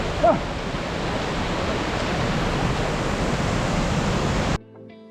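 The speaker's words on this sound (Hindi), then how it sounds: "पूरे रास्ते में पानी बहता रहता है।" A mountain stream rushes continuously across a trekking path with a broad, steady roar that stops abruptly at the end.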